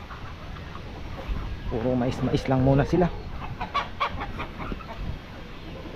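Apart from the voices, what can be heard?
chickens clucking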